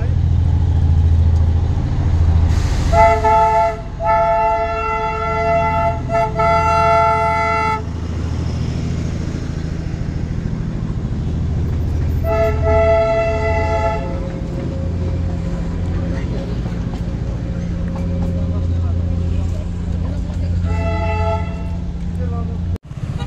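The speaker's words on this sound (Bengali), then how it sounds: "টয় ট্রেন আসছে, টয় ট্রেনের সঙ্গে দেখা ঘুমের সামনেই।" Darjeeling's toy train arriving at Ghum sounds its horn in several shrill, sustained toots across the span, some doubled, over a steady engine and street rumble with people talking nearby.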